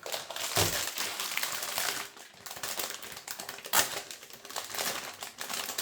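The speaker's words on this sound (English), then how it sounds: "little bit of tape on this side, which I will carefully undo, just like so. Let's unwrap it." Tape and plastic packaging being peeled and unwrapped from a Gigabyte X870M AORUS ELITE WIFI7 motherboard box, giving close, continuous crinkling and crackling with a couple of sharper rips, no talk.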